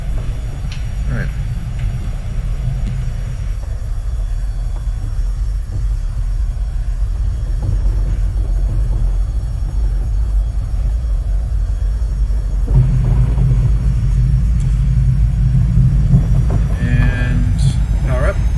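Simulated light aircraft engine in X-Plane 11 rising in power for a rolling takeoff, a steady loud drone that grows fuller partway through, with someone talking over it.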